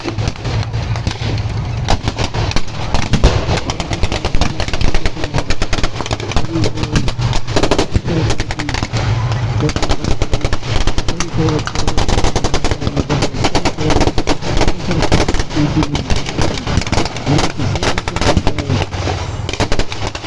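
Sustained bursts of rifle and machine-gun fire crackle through a staged battle reenactment of the Hron river crossing, dense and loud, with rapid volleys overlapping almost continuously and no clear talk.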